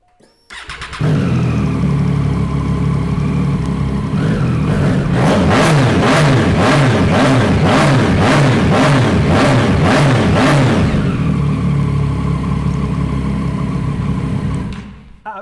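A Triumph Street Triple motorcycle engine starts up close and loud, settles into a throaty idle, then is blipped through a rapid series of sharp revs before dropping back to idle and cutting off.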